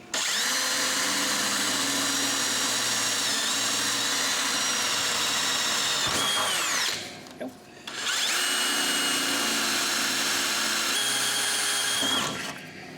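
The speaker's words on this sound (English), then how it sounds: "So the next thing we can do is drill a pilot hole on both of those places we put our punch." A power drill whines steadily through two long runs drilling pilot holes during an LS engine swap transmission install, stopping briefly in between, its high-pitched motor ringing loud and close.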